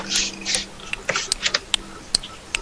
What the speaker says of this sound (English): Prepare to hear some clicking.